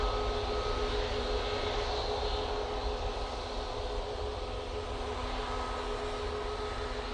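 A Ryanair Boeing 737-800 on its takeoff roll gives off a steady, broad jet engine roar with a faint whine, continuous and even, heard from a distance.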